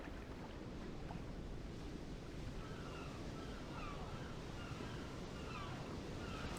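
Ocean waves in the SpongeBob movie video game roll as a steady, soft surf wash with a windy hiss, continuous and fairly faint, no voices over it.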